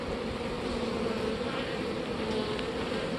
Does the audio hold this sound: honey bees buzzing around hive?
yes